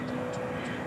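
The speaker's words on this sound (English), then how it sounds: "I hear another prop plane." A Cessna 208B Super Cargo Master propeller plane lands at DFW Airport at night, a steady droning engine hum with a faint tonal whine throughout the short moment.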